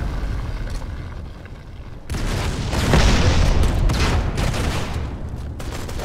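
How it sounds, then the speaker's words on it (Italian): Deep, rumbling grenade blasts in the Modern Combat 5 shooter game, one heavy boom rolling into a sustained roar of explosions, loud and continuous with no talking. "Granate, ragazzi, a volontà."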